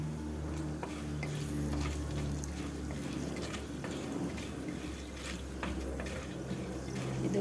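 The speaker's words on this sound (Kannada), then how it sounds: "ಈಗ ಇದಕ್ಕೆ ಸಾಸಿವೆ ಹಾಕ್ತಾಯಿದ್ದೀನಿ, ಮತ್ತು ಕಡಲೆಬೇಳೆ, ಉದ್ದಿನಬೇಳೆ." Mustard seeds with chana and urad dal frying in hot oil in a pan, a steady close crackling sizzle with scattered small pops throughout, no voices.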